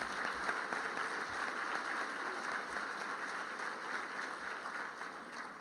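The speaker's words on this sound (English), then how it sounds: "a round of applause for our students and sponsors" Sustained applause from a seated audience, honoring students and sponsors at a live debate event; steady dense clapping holds at a moderate level throughout with no break.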